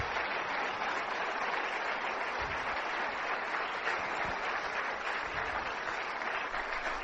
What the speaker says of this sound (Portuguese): Vamos dar um forte aplauso para todos eles.